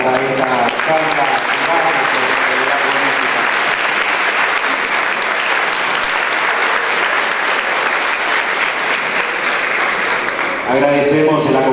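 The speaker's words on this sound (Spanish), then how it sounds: "con un fuerte aplauso para esta charla" Strong, sustained audience applause fills a hall during an evening talk and debate on current political affairs, steady and loud throughout, with a voice briefly coming in at the very end.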